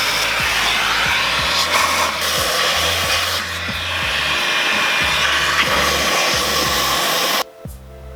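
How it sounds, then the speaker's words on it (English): A vacuum cleaner sucks debris out of a car, a loud steady whine with rhythmic thumps and rattles as material is pulled through, cutting off abruptly near the end. "I'm gonna have to grab the vacuum and suck this out"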